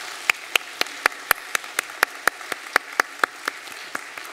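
A church congregation claps during a Sunday worship service to welcome newly registered families, making a steady, evenly spaced run of sharp claps at moderate volume with no talking.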